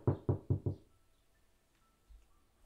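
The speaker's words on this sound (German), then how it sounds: "Sie klopften an der großen, mächtigen Holztüre." Four quick, evenly spaced knocks land on a large, heavy wooden door of a log cabin. They are loud and close, then followed by near silence.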